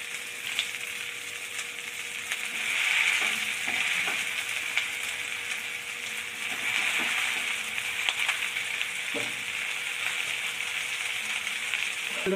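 Ginger sizzles and fries in a pan while being stirred for palak paneer, a steady close hiss with occasional scraping clinks from the stirring, no voices.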